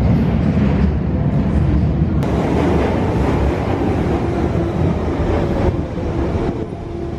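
A London Underground tube train arrives at a station with a loud, rushing rumble and rattling roar echoing through the platform, sustained and close, tapering slightly near the end.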